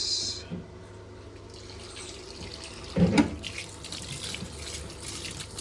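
Water gushes from a hose pipe during a bike wash, a steady close hiss of running water with a brief louder splash burst midway.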